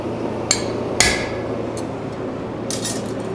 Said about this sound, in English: I'm going to angle it at a far angle to start chiseling in some lines on his mane.